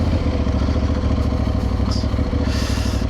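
Aprilia Tuareg Rally motorcycle engine pulling steadily on the road in Belgium, a loud, continuous low throb with rhythmic pulsing and some wind rush near the end.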